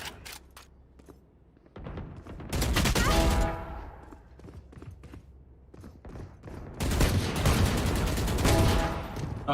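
Machine-gun fire in a deathmatch shooter game: two long, loud bursts of rapid automatic shots separated by scattered single cracks and quieter gaps, dense and close.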